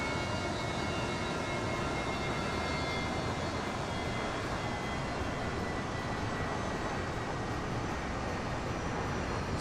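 Twin rear-mounted jet engines of a Fokker F100 airliner in a flight simulator give a steady, loud, broadband roar that holds unchanged for the whole stretch, with no voices.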